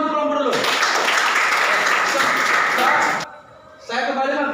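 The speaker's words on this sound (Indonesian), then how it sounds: "Oke, tepuk tangan untuk kelompok dulu." A classroom of students gives a group a short burst of clapping that rises suddenly and stops after about three seconds, with voices talking before and after it.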